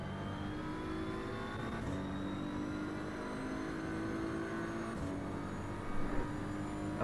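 GT3 race car in the Assetto Corsa EVO racing game at full throttle, a smooth, continuous engine whine with steady tonal harmonics that step through gear changes, alone and fairly quiet.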